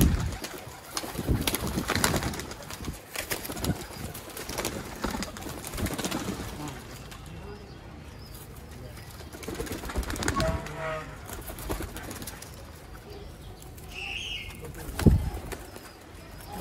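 Sialkoti pigeons coo softly and flap their wings in bursts nearby, with some background voices and rustling.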